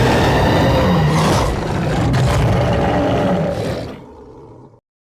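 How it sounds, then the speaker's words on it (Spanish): A monster roar, a massive, loud, growling bellow that rolls continuously for about four seconds, thick with rough low rumble, then fades and cuts to silence. "Un rugido estremeció todo el lugar."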